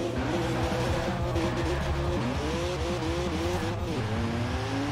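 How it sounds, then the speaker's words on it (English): A BMW Z4 tuned to just over 700 horsepower in Forza Horizon 4 spins its wheels, its engine droning steadily at high revs with wavering pitch and tire squeal running throughout. "Definitely a lot more wheel spin."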